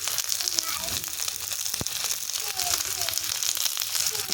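Vegetables fried with turmeric and salt for a shorshe bata dish sizzle steadily in a pan, with scraping and stirring crackles running throughout at a close, moderate level.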